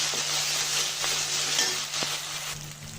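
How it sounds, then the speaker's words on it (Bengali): Ginger, garlic and cumin paste fries in a pan for a beef haleem, giving a steady close sizzle broken by a few soft stirring scrapes, with no voices. "আদা রসুন জিরাটা ভালো করে ভেজে নিব।"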